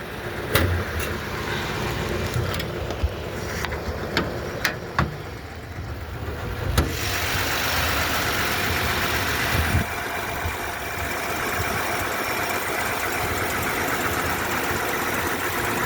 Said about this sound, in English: Super Hurricane motor. Carter YF carburetor. Single barrel.